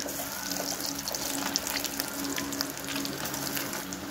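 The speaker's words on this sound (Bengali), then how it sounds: "এইগুলো হালকা আছে বাদামি মতো ভেজে দিতে হবে।" Chicken pieces for chilli chicken frying in hot oil until light brown, a steady dense sizzle with crackling pops, close and continuous throughout.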